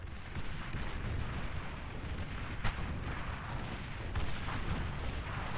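Artillery firing in the real-time strategy game Beyond All Reason, a dense rumbling barrage of booms and blasts with one sharper crack, loud and continuous with no voices.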